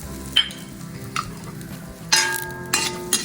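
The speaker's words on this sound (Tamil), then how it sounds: "அடுப்பில் சட்டியை வச்சு எண்ணெய் காஞ்ச பிறகு அதில் பட்டை கிராம்பை போடணும்" Cinnamon and cloves sizzle in hot oil in a pan, a low steady crackle broken by several sharp clinks and scraping stirs of a spoon against the pan.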